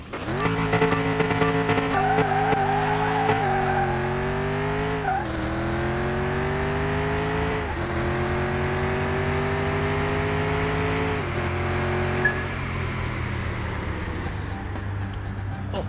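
A Ford GT40 race car in a video game roars at full throttle, its engine pitch climbing and dropping through gear changes with tire squeal, loud and continuous throughout.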